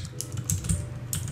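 Quick, close keystrokes on a computer keyboard, a handful of light clicks and taps in an uneven rhythm, with no talking.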